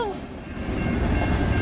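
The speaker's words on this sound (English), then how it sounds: "a train going through" A train with two engines passes along Armstrong Road in Newport, giving a loud, steady rumble with a brief tonal horn blast at the start, close by.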